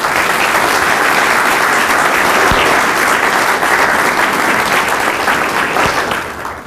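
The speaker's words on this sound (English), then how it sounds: "let's just give everybody that was on that list a round of applause" A round of applause from an audience at a strategic planning briefing, continuous broad clapping at a steady level that tapers off near the end.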